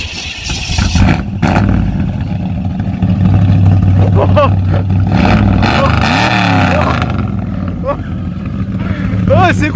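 A Chevrolet Chevelle SS muscle car engine cranks and fires up, then roars and revs repeatedly nearby while people talk and shout excitedly over it.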